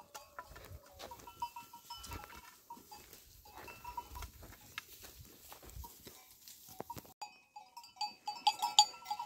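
Sheep flock grazing in a field at sunrise, with scattered soft tearing and chewing, light patter and occasional bell clinks, near and fairly quiet, with no talk.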